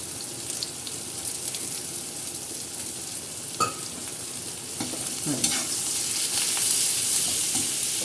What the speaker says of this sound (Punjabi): ਇਹਨੂੰ ਵਧੀਆ ਤਰੀਕੇ ਨਾਲ ਇਹਦੇ ਨਾਲ ਹੀ ਭੁੰਨ ਦੇਣਾ ਪਿਆਜ਼ਾਂ ਦੇ ਨਾਲ ਹੀ ਭੁੰਨਣਾ ਹੈ